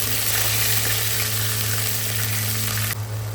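Sauce poured into hot oil over fried cauliflower sizzles loudly and steadily, a dense close-up crackle that holds for about three seconds before easing slightly, with no voices.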